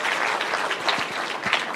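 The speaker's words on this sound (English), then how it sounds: "another round of applause for these 4 amazing rally drivers" Audience applause at the KCB WRC Safari Rally 2025 launch event, greeting rally drivers: dense, steady crowd clapping close by, holding even for under two seconds with no talk.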